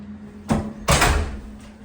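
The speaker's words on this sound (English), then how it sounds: "Nice sturdy door there, you could hear it." At Stella Nova hotel near Universal's Epic Universe, a sturdy hotel room door clicks open and then shuts with a heavy thud, both sounds close and distinct against a low room hum.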